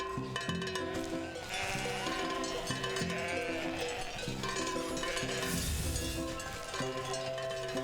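Sheep in the video game Wytchwood bleat repeatedly over a steady musical backdrop with cowbell-like tones, the calls overlapping throughout.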